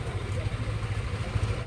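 Motorcycle engine idling at a busy neighbourhood street festival, a steady low rumble throughout with crowd murmur and distant voices around it.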